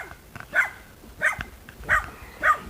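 Young puppies yapping in short, high barks, four distinct yips spaced about half a second apart, fairly close and alone without talk.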